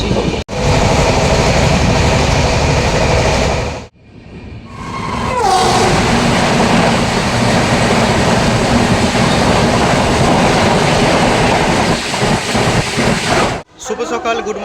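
Doon Express train (13010, Ayodhya Dham to Howrah) running on rails, a loud continuous rumble from on board with brief breaks, faint clatter and a squeal near the middle, and speech likely mixed in.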